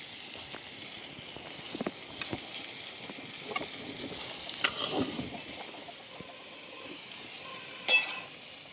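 Potatoes frying in a pan with fried green chillies, a low, fairly quiet sizzle with scattered light clinks and stirring, and one louder knock near the end.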